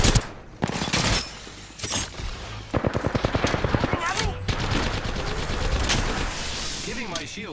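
Gunfire in the video game Apex Legends, with rapid automatic bursts and single heavy shots crackling loudly in close succession through the fight, over game sounds and brief voice fragments.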